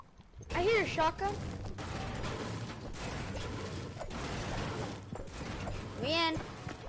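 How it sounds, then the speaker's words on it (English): Shotgun blasts in a video game hit in loud, sharp bursts near the start and again close to the end. A busy layer of mechanical clatter runs between them. "I hear a shotgun."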